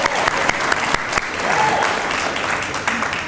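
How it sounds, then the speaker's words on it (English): An audience at a Veterans Day event at a university health center breaks into steady, loud applause, dense claps filling the room evenly for the whole stretch, with a brief murmur of a voice beneath. "So let's give her a round of applause"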